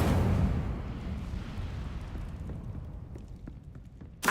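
A fiery Incendio spell cast in Hogwarts Legacy bursts with a loud, roaring whoosh at the start, then settles into a crackling, rumbling burn that slowly fades, with a sharp new burst right at the end.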